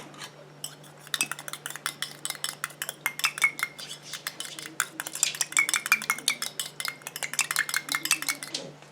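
Light powder being mixed into a homemade eye contour gel, with quick rhythmic clinks and taps of a utensil against a small container, close and steady for several seconds.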